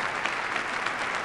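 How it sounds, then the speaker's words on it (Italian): Applause from a concert audience for a live band with brass and woodwinds, a short dense burst of clapping heard at a moderate distance, with no talking. "Meritatissimo l'applauso"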